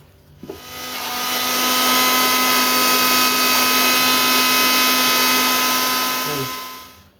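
Soaked dried red chillies ground in a mixer grinder: a loud steady motor whine starts after a brief clatter, holds for several seconds, then winds down.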